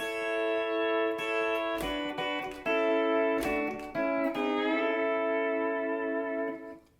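Pedal steel guitar playing a melodic solo phrase from a song, with sustained, bending harmonic notes and several sharper picked attacks, close and steady throughout.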